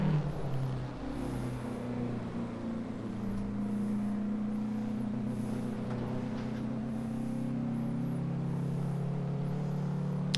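A 1952 Ferrari 500 racing engine drones steadily through Assetto Corsa, a sustained low, buzzing tone that rises slightly and holds as the car drives on without pause.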